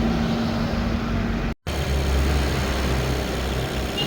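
A Skoda Superb engine drones steadily during particulate filter regeneration, with a faint cooling-fan whir, broken by one very short dropout.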